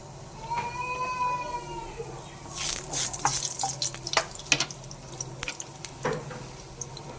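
Oil crackles and spits in a pan as dried chili fries, with sharp sizzling pops clustering in the second half; faint tones sound early on, with no talking.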